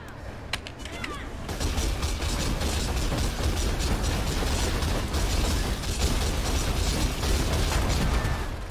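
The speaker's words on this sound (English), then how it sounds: "Corpse Exploder" Corpse explosions in Path of Exile boss fights, a dense, sustained wash of bursting and popping blasts layered with mechanical clatter, loud and continuous after a quieter opening second.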